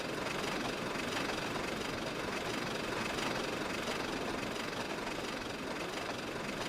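The Flying Scotsman steam locomotive, a 1920s engine recreated in the train game Trainz, runs at speed with a loud, steady, dense rumbling chug that fills the scene without pause and has no voices over it.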